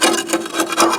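A sharpened metal bar scrapes hardened crust off a 1959 Axeman Anderson 130M tractor, giving a close, steady rasping rub in quick repeated strokes with no talk.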